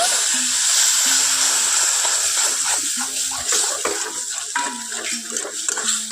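Water poured into spices of turmeric and chilli powder hisses and sizzles steadily in a pan, with a tonal sound recurring above the continuous frying noise.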